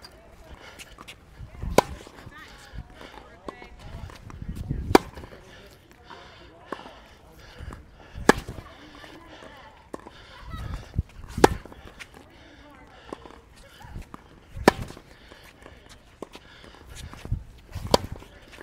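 A tennis rally on Toroline Super Smash strings: sharp, thumpy ball strikes land every few seconds in an even back-and-forth rhythm, with footsteps and faint voices between hits.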